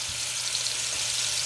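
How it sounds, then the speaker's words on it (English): Steak searing in a hot pan, a loud, close, continuous crackling sizzle with no talk over it. "You can hear that great sizzle."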